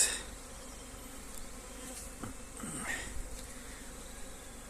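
Carpathian mountain honeybees fly around their hive with a soft continuous buzzing drone, with individual bees zipping past close by now and then, no speech.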